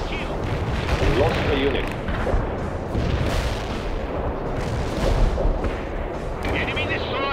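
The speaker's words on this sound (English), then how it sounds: "Incendiary bomb performing above expectations." Incendiary bomb strikes in the real-time strategy game World in Conflict, set during a Soviet invasion of Norway, rumble as dense, continuous booms and crackling blasts under game radio voices.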